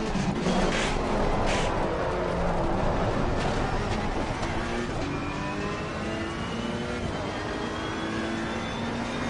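A race car engine in Assetto Corsa Competizione holds a steady loud drone, with its pitch falling in stepped glides as the gears drop, and no talk over it.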